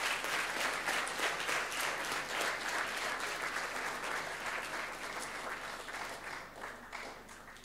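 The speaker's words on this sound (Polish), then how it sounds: "brawa." An audience applauds steadily at the announcement of a theatre and short film competition verdict, a dense, even wash of many hands clapping that slowly fades over about eight seconds, with no talk over it.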